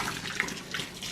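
Boiling water from a kettle pours steadily into a plugged kitchen sink over cleaning cloths, a close, continuous splashing rush with no speech.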